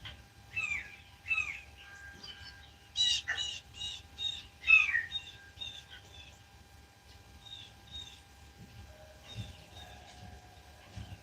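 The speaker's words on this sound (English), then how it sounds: "Yeah, that's a bird." Birds call repeatedly in a backyard at dawn, a string of loud, harsh squawking notes in close bursts, followed by fainter scattered chirps over a low background hum.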